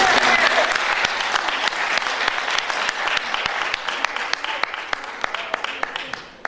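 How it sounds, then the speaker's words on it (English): An audience applauds loudly and steadily at a talk, dense clapping that slowly thins out, with a few distinct claps standing out as it fades. "I think we should give her a round of applause and recognise her."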